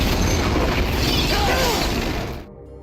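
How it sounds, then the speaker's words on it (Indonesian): A film explosion that kills a general at a military base, a loud, sustained roaring blast with crackling debris that fills the scene and then cuts off abruptly near the end. "Si jenderal pun harus tewas akibat ledakan tersebut."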